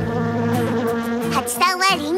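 Cartoon honeybees buzzing loudly and close, a bright wavering drone that rises and bends in pitch over a couple of seconds, with no talking.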